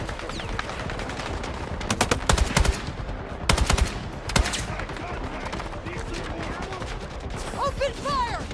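Automatic machine gun bursts in a combat video game crack out in several rapid volleys, loud and close, with shouted voices and other battle noise between them.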